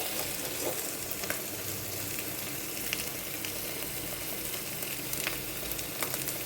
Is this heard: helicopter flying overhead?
no